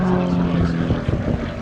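A propeller aircraft engine at Old Warden drones loud and close, with a throbbing, harmonic-rich note that wavers slightly as the plane performs a knife-edge flick manoeuvre in an aerobatic display.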